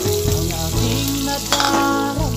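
Bihon noodles with sausage being stirred in a frying pan give a loud, dense, continuous sizzle with scraping utensil strokes, close up and without any talking.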